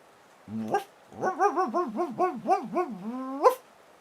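A person imitates a dog with a short yelp, then a run of rhythmic barks and whines, ending in a rising howl-like bark, close and clear with no other voices.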